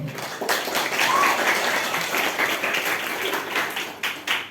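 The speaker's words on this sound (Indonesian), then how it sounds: "Tepuk tangan bagi kita semua" Audience applause during a student council leadership training opening at a Jakarta junior high school, a steady patter of clapping from a large group that fades slightly before a final swell.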